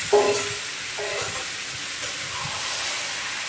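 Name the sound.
marinated goat meat frying and being stirred in pan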